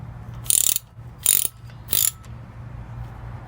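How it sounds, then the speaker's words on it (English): Ratchet wrench turning a bolt on the front brake of a 2007 Toyota Highlander: three short, close clicking bursts about half a second apart over a low background hum. "Let me grab my wrench."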